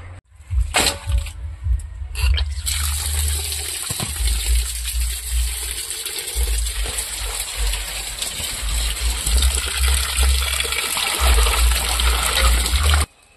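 Fish and duck meat are washed in water, with loud, close splashing and sloshing, clattering bumps and running water continuing steadily throughout.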